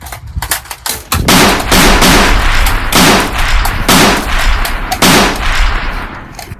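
Rapid gunfire in a Civil War video game: loud, dense bursts of shots crack repeatedly and close together, almost continuous after the first second, with no talking.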